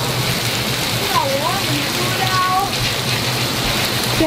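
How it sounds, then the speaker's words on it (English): Heavy thunderstorm rain pours in a dense, steady hiss of drops hitting surfaces nearby, with a couple of birdlike chirps faintly over the downpour. "we needed the rain so bad"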